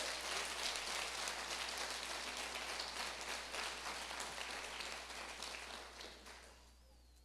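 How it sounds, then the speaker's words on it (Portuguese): A church congregation at a conference service claps together in a dense, steady wash of applause that carries on for several seconds before thinning and fading out. "Você pode dar um aplauso a Ele."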